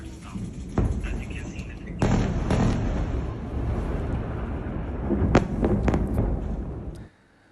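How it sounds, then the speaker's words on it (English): Israeli strikes on Gaza City produce a dense, rumbling barrage of explosions and booms over steady low roar, with several sharp blasts standing out before the sound cuts off abruptly. "the audio of explosions could be heard across the targeted residential areas on Monday"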